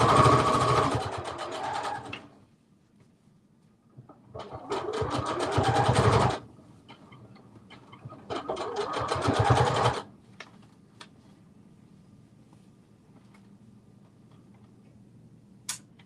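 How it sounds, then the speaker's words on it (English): A sewing machine sews the side seams of a Simplicity 9372 garment in three loud, rapid bursts of a couple of seconds each, separated by near silence with faint clicks. "we're actually going to sew the side seams together as well"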